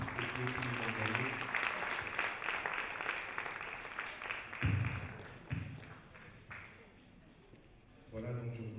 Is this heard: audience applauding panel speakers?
yes